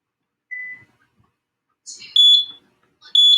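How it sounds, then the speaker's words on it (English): Short electronic beeps from a workout interval timer during a resistance band session: a single mid tone, then after a pause two sharp, loud high-pitched chirping beeps, heard alone with no talking. "so that's the timer, and we're ready"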